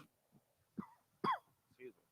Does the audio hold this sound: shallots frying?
no